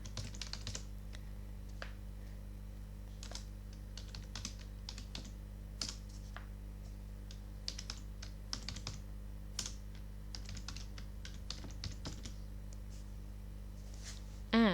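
Typing into an Excel spreadsheet on a computer keyboard, quick irregular bursts of light clicks and key taps with short pauses, close and fairly quiet over a steady background hum.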